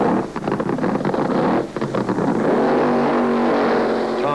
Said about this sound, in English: The rain's passed, the cars are ready for their first run.